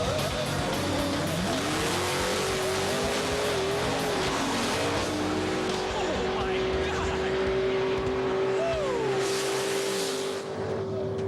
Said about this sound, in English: That's a Nate Pritchett wheelie right there, buddy.